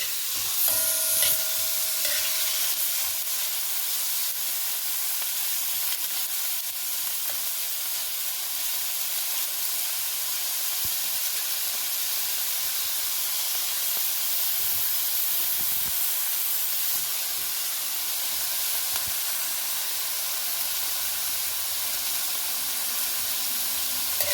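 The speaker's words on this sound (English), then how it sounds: "I like using my metal spoon. I know it makes noise, but I just love using it." A pan of carrot and cashew fried rice sizzles and hisses steadily throughout, with faint scraping and clinking of a metal spoon stirring, no voices.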